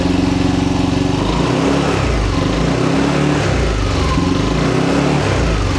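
Yamaha Nmax Techmax 155 scooter idling and revving through a Vmax Onyx open muffler, a loud, steady, close engine drone with a pulsing exhaust note.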